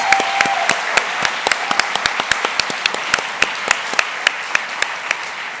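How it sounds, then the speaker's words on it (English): Audience applause at an annual teachers' awards gala, a dense wash of clapping with sharp individual claps standing out throughout, steady and close. "One more round of applause for these amazing Golden Apple teachers."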